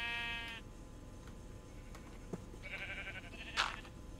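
Minecraft sheep bleat twice, close and clear: a long wavering baa at the start and another near the end, with soft game ambience between.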